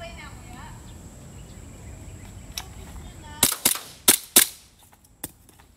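Airsoft pistol shots during practical shooting practice, five or six sharp, loud cracks in a quick irregular burst after a quiet stretch with faint background noise.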